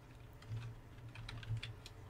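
Faint, quick keystrokes on a computer keyboard as a web address is typed into a browser's address bar, a short run of light clicks over a low steady hum.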